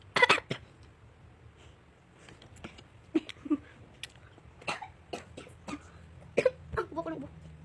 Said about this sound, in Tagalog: Ubo ko ng ubo.